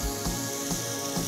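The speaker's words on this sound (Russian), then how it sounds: "Сперва обжариваем лук и закидываем на горячий лук прямо сверху кусочки печени индейки." Turkey liver pieces dropped onto hot fried onion in a pan, a steady dense sizzle with faint pops, close and continuous.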